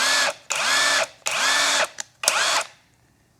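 A cheap cordless impact gun whirs up in four bursts as its trigger is pulled, each high motor whine rising, holding and cutting off, close and loud with brief pauses between.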